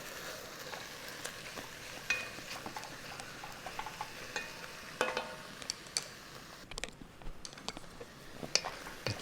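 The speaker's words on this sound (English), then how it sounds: "Keep stirring it around until it's all brown. I don't want to overcook it, I just want to sear it," Beef for Hungarian goulash searing in a pot while being stirred, a quiet steady sizzle broken by scattered spoon scrapes and clinks against the pot.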